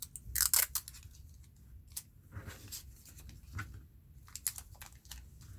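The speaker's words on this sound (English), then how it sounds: "Now I'm going to put my washi tape over that." Washi tape pressed over folded paper in a craft project, heard as soft, quiet crinkles and sharp little taps and rustles scattered irregularly, close to the microphone.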